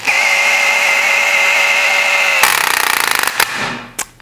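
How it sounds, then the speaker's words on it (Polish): A cordless drill-driver with its clutch at setting 25 whines loudly and steadily while driving a screw into wood, then the clutch slips into a rapid ratcheting clatter, followed by brief bursts and a final short rev. "Kręcimy dalej do oporu, czyli już mamy 25 i wkręcamy."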